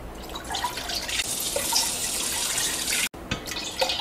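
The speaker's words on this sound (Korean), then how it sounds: "물을 넉넉하게 3리터 부어줄게요." Water runs from a tap into a cooking pot, filling it with about three litres for boiling noodles, a steady close splashing and trickling stream with a brief break near the end.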